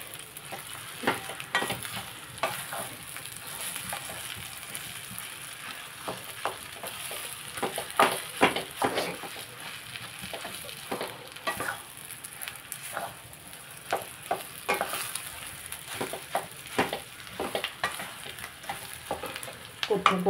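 Mashed sweet potato mixture with a spice tempering sizzles and fries in a pan while being stirred, with steady frying hiss and repeated scraping strokes over about twenty seconds, no voices.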